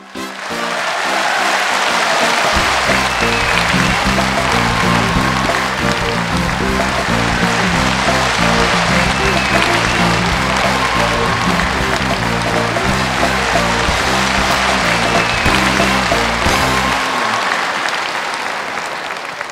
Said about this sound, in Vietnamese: mời quý vị một tràng pháo tay thật đặc biệt